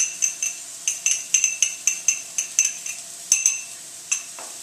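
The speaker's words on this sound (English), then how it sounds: "Stir it all together till it's all incorporated." A spoon repeatedly clinks against a bowl while ingredients, including onion powder, are mixed together, giving a quick, steady rhythm of bright metallic taps close by, with no talking.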